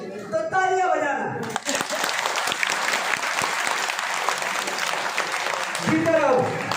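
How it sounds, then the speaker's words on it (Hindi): Loud applause from a large crowd at a religious speech gathering in Ujjain, a dense sustained clapping wash lasting several seconds, with a voice briefly audible before and after. "तो तालियां बजाना।"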